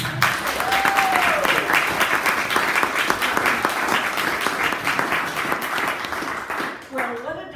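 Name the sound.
audience applause welcoming speaker Claudine Schneider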